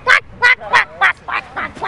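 A person mimics a duck with six nasal quacks in quick, even succession, close and loud, with no other voices.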